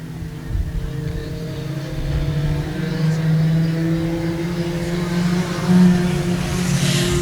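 Junior sedan race cars lapping a short oval track in a heat race, a steady engine drone holding throughout with a swelling pass near the end, no talk over it.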